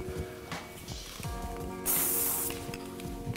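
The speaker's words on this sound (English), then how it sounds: "Get the hairspray again just to calm down your little flyaway pieces." Hairspray hisses from an aerosol can in a single sustained burst lasting under a second, close and fairly loud, with soft handling and rustling of hair before and after.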